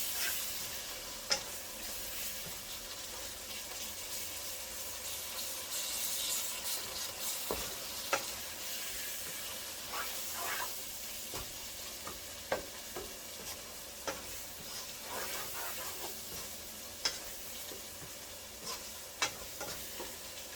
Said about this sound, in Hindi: ताकि जो मसाला हमने शामिल किया है वो जले नहीं और अच्छी तरह से भुन भी जाए।